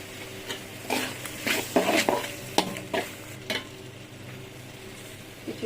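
Beef for biryani is stirred in a hot pan, with irregular scraping strokes of the spoon over a low, steady sizzle and no talk.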